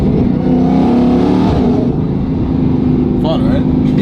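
A Dodge Hellcat with a Valvetronic Designs valved sport exhaust revs hard, its loud, continuous roar filling the space while people talk over it.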